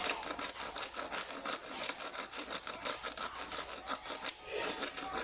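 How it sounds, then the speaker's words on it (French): Black peppercorns being ground by hand in a pepper mill while making carbonade, a steady gritty rasping crunch that repeats in quick short strokes, close and continuous throughout. "Le poivre moulu, à la main, moulu grain."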